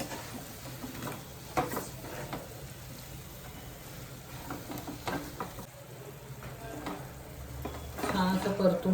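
Malvani-style drumsticks and prawns are stir-fried in a pan, with a soft, steady sizzle broken by scraping strokes of the spatula, close-up and moderate in level, growing a bit busier at the end.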